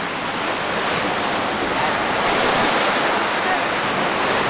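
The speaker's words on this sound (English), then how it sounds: "The tide is coming up. And this is beautiful Patong Bay in the northern, southernmost end of Patong." Ocean waves wash continuously along Patong Beach in Phuket, a dense broadband surf roar with no clear breaks, fairly loud and steady throughout.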